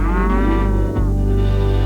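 A single cow moos loudly and close on a Nebraska cattle ranch, one long sustained low bellow with a brief dip midway before it resumes.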